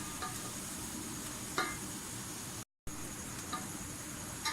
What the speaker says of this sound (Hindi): अनियन हमारी जो है वो फ्राई हो गए हैं।